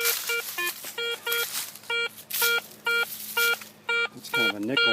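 A metal detector gives a nickel tone: short electronic tones pulse in a steady repeating rhythm, about ten beeps over a few seconds, with a warbling tone near the end and faint rustling beneath.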